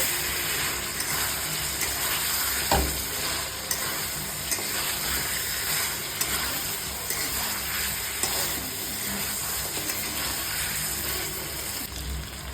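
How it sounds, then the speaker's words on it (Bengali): Chicken curry is sautéed in a pan, giving a steady low sizzle with occasional scrape and knock of a spoon against the pan, close by and without speech. "আর জাস্ট 5 মিনিট মতন কষিয়েই আমি জল দিয়ে দেব।"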